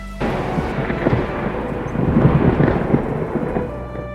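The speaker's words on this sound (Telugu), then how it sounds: "ఒక రాత్రి అకస్మాత్తుగా భారీ వర్షం వచ్చింది." Heavy rain pours steadily with deep rolling thunder swelling underneath, a dense, loud downpour that builds in the middle and continues without any voices.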